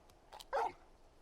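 A big dog in a video game gives a single short, fairly loud bark over quiet background, with a couple of faint yips just before it.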